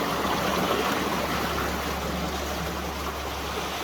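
Creek water flows steadily near the Springtree Bridge and a wooden flume, a constant broadband rush with no breaks, fairly loud and close, with no voices.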